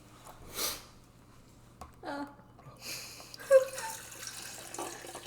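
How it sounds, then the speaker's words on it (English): Water is poured in short bursts into a container tinted with red food coloring, splashing and trickling near the microphone in a quiet room with brief faint voices between pours. "And Kaya, do you want to pour some water in there"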